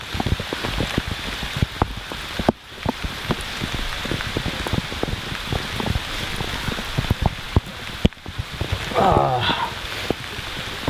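Rain falls steadily outdoors, pattering close by on surfaces in dense, irregular drops, with brief gusts of wind buffeting the microphone and a short human sound near the end.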